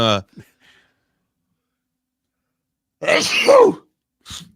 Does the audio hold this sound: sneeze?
yes